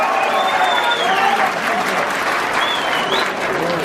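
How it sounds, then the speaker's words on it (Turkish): Students at a school knowledge competition in Midyat receive a sustained burst of audience applause, loud and close, with scattered whistles over the dense clapping. "büyük bir alkış alalım."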